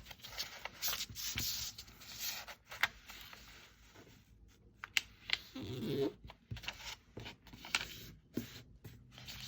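A sheet of paper is folded and creased by hand while making a paper heart, giving soft intermittent rustles, scrapes and sharp creasing swipes close to the microphone, with no talk.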